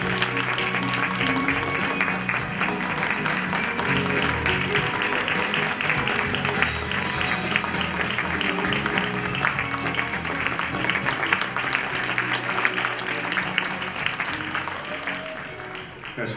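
Sustained applause from a large audience at a dance festival gala in Seoul, steady and loud throughout, with a faint murmur of voices mixed in before it tapers slightly at the end.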